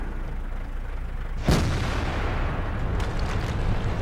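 A tank destroyer's cannon fires in World of Tanks, one sharp, loud boom followed by a rumbling tail over steady engine noise, with fainter distant shots afterward.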